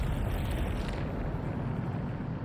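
A Bombarda spell explosion in Hogwarts Legacy, heard as a loud, dense low rumbling blast that fills the moment and slowly eases off.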